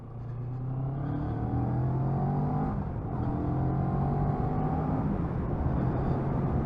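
A 2022 CF Moto 650NK motorcycle accelerating on a country lane, its engine note rising in pitch through a gear, a brief dip at the shift, then climbing again, loud and close.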